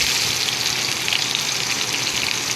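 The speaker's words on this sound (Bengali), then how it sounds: "এখন দিয়ে দেবো পেঁয়াজ কুচি" Chopped onions dropped into hot oil with dried red chillies and bay leaves, tempering for a mutton head curry; a loud, steady, close sizzle runs unbroken throughout, with no talking.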